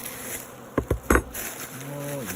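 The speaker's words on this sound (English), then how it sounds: "Bees are interested in what I'm doing" Honeybees buzzing around an open hive during a late-February hive check, a steady insect drone with a few louder close passes near the middle and a rising tonal whine toward the end.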